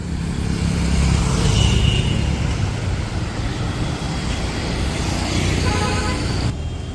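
Busy street traffic near Moulali in Kolkata while crossing a road, a dense continuous wash of passing vehicles with engine roar and hiss, loud and close, swelling slightly in the middle.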